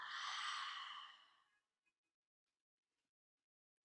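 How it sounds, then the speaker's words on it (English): A single deep, breathy exhale through the mouth during a yin yoga class, close and soft, fading out after about a second and a half into near silence. "Deep cleansing exhale."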